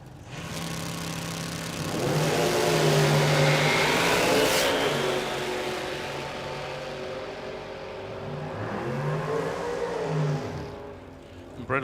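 A front-engine dragster accelerates hard down a drag strip at raceway racing, a loud sustained engine roar that swells, holds, dips and rises again across the run.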